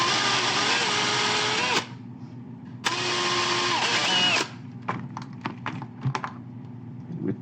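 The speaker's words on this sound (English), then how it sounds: "hopefully this drills out nice and neat" Power drill boring a 1/16 inch hole while carving a figure's upper legs, two loud steady whirring bursts of a couple of seconds each, separated by a pause and followed by faint clicks and handling noises.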